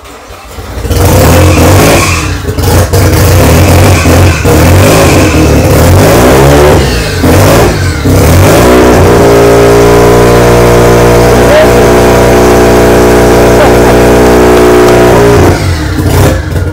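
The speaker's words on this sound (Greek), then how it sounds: "Θέλετε να ακούσετε RX-7." A Mazda RX-7 rotary engine, previously flooded, cranks and catches, then revs loudly and roughly in repeated bursts before settling into a steady, buzzy high idle up close.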